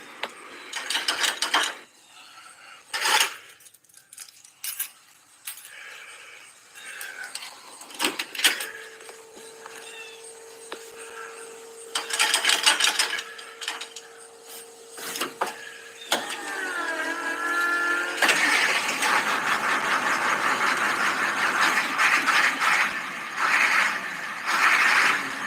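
A 1989 International school bus with a 7.3-liter IDI diesel engine and low oil pressure cranks with mechanical clatter and a whining starter, then catches and settles into a loud, steady rumbling run.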